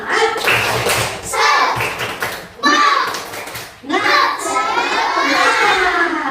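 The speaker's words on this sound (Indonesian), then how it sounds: "sekarang kita akan bertepuk semangat agar kita semangat" A class of schoolchildren in an Indonesian primary classroom perform a spirit clap chant, loud voices shouting in rhythm with bursts of clapping, a pause near the middle before the chant resumes.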